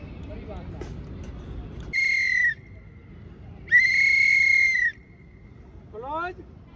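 A police drill whistle sounds two bright, steady blasts, the first short and the second longer, over low background hum during a training session.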